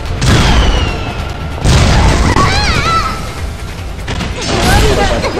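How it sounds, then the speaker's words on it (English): A rocket trap explosion in the video game Deception IV booms loudly several times, each blast followed by rumbling debris and mechanical clatter, with a voice talking over it. "as soon as she pops out, I send her down a rocket."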